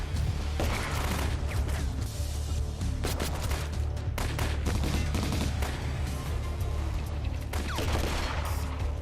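Rapid gunfire crackles through a shootout scene in the action film Mercenaries, dense bursts of overlapping shots and sharp cracks over a low rumbling bed, continuous throughout with no speech.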